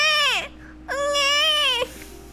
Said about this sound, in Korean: 그래서 입을 열고 첫 울음을 터뜨렸다.